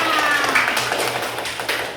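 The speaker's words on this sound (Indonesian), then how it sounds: "Tepuk tangan buat semuanya" A class of young schoolchildren clapping their hands together, a brief burst of quick, uneven claps close by, with a voice briefly audible underneath.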